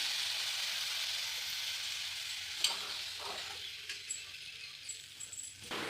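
Grated coconut being stirred and lightly sautéed in a pan for vallarai chutney, giving a soft steady sizzle with a few faint clinks of a spoon against the pan, close and alone.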